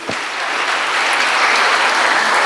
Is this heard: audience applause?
yes